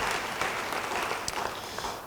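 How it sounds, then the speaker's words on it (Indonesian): A church congregation claps during a sermon, a short dense burst of applause that fills the room and stays loud and even for about two seconds. "Yang setuju beri tepuk tangan bagi dia."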